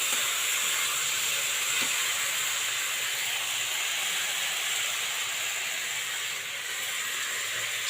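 Steady loud hiss of water hitting fried spices in a hot pan while cooking a papaya curry, a continuous steamy sizzle that holds evenly throughout with no voices.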